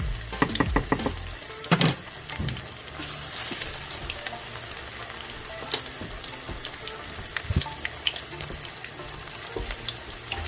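Chicken breast fritters frying in hot oil, a steady close sizzle and crackle with sharper pops and bubbling at the start, no voices.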